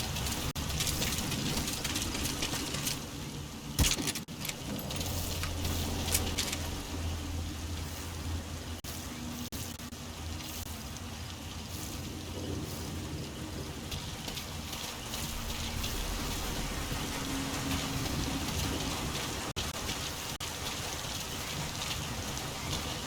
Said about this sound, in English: Sound of rainfall should help to mask your footsteps.